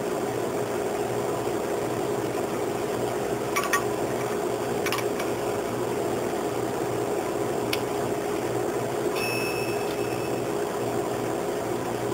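A microwave oven melting chocolate: a steady mechanical hum drones on evenly throughout, with a few faint clicks and a short high electronic beep near the end.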